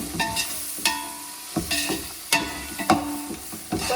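Coriander leaves sizzling in oil for a big batch of mutton biryani, stirred with repeated scraping strokes against the pot over a steady frying hiss, close by.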